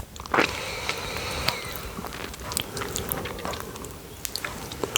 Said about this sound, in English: It adds like a slight crunch with all the smoothness of the chocolate.